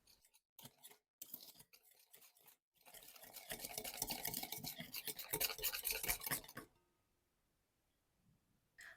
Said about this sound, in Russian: Все хорошо перемешиваем до растворения сахара и соли.